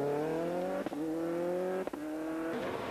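A WRC or Group A rally car engine on a wet rally stage drones loudly and steadily, its pitch dropping sharply at each gear change, with three quick shifts in a few seconds.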